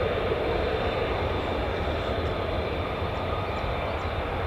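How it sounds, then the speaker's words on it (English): F-15E Strike Eagle jet engines spool up at RAF Lakenheath, a loud, steady broadband roar with a whining hiss that holds constant from start to finish. "that eerie sound of the F-15E Strike Eagles just starting up"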